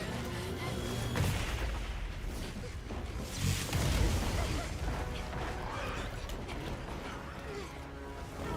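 Heavy railgun blasts from Monster Hunter Wilds, several booming, crashing shots over a dense, rumbling battle din, with occasional faint voices underneath.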